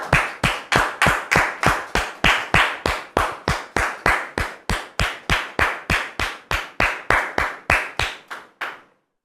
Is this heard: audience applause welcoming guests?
yes